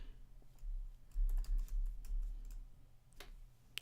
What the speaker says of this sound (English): And I'll start by typing in Discover.